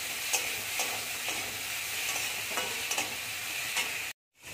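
Turmeric powder fries in oil in a pan, giving a steady, fairly quiet close sizzle with faint periodic scraping ticks from stirring. It cuts off abruptly near the end, with no talk.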